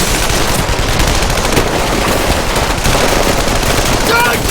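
Rapid burst of gunfire from a scene in the crime drama Justified, loud and sustained as a continuous rattle of shots filling the whole moment.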